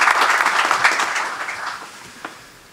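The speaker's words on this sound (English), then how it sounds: "Join me in giving them a hearty round of applause." Audience applause at a university athletics press conference fills the room with dense, loud clapping that slowly fades toward the end.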